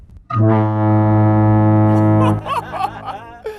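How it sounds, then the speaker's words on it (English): A loud, steady air horn blast from a very large glass-shattering horn holds one deep tone for about two seconds, then cuts off, followed by people laughing and chattering nearby. "All right, Ken, fire the normal air horn."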